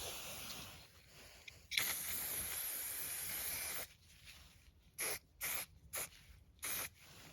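A can of strong-smelling spray is used, first in one long hissing burst of about two seconds, then in four short, sharp puffs with brief gaps of quiet between them, close by.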